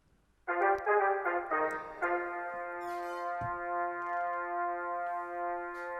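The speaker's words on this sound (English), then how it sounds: "It's Nexus, it's staccato brass" Short, punchy Nexus synth brass stabs hit in a quick staccato pattern, then one bright chord is held and sustained, clean and fairly quiet with no voices.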